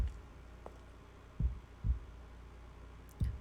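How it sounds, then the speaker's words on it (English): A faint, low heartbeat thuds through a dramatic reading of the visual novel Tsukihime: A Piece of Blue Glass Moon, with a few soft, spaced beats over a quiet hum. "The sound of my heartbeat alone is making you melt, right?"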